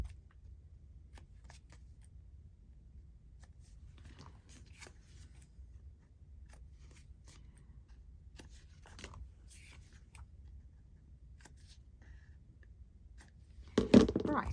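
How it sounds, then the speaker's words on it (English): Scissors snip the corners of paper ephemera during a crafting session, giving faint, scattered small cuts over a quiet background, followed by a louder rustling burst near the end. "We'll snip the corners."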